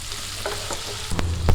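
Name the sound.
bitter gourd and onions sautéing in a pan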